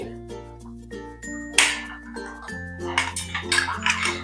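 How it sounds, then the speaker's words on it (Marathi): A spoon stirs vegetable masala and salt into a stuffed eggplant curry in a metal pan, with repeated clinks and scrapes of metal against metal, close and lively, and a steady tone running beneath. "आता या स्टेजवर टाकते भाजी मसाला आणि मीठ मिक्स करून घेते"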